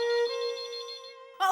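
An electronic phone ringtone trills steadily for over a second, then a brief burst of voice cuts in at the end.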